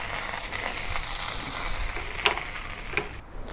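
Teriyaki beef steak sears in a hot pan with a continuous close hiss and sizzle, dotted with sharp pops and spatters, easing off briefly at the end; no one speaks.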